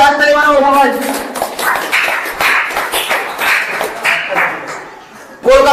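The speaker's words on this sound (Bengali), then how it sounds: "জোরে হাততালি মানাবো সবাই।" An audience claps at a pigeon tournament prize distribution in Murshidabad: a broad, steady patter of many hands for several seconds, with a voice heard before and after.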